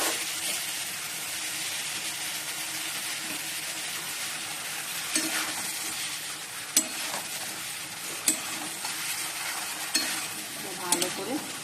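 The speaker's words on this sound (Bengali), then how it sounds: "মশলা কষে নিচ্ছি" Spices sautéed with fried potatoes and pointed gourd in a pan: a continuous close sizzle under repeated stirring, punctuated by occasional sharp clacks of the utensil against the pan.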